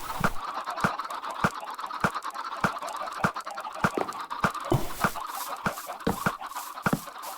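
Minecraft chickens on an automatic hopper-and-dropper farm cluck repeatedly at moderate volume. Sharp percussive ticks recur about every half second underneath, with no talking.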